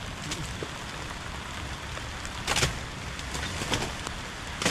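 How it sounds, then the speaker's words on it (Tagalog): Steady heavy rain hisses without a break, with occasional louder splashes and spatters standing out from the constant downpour. "Lakas ito ng ulan."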